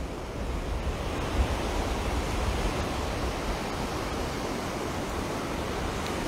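Ocean surf rolls in at Bathsheba beach in Barbados, a loud, steady roar of white water breaking close by, mixed with wind buffeting the microphone and no talk.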